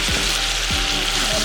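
Onions and tomatoes sizzle and fry in a pan, a steady loud hiss broken by a few low scraping strokes as the mixture is stirred, with no talking.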